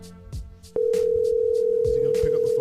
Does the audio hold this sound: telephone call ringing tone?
yes